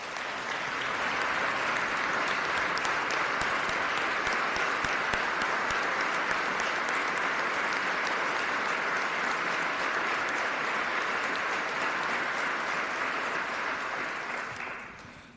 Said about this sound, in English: We should give them a big round of applause as well.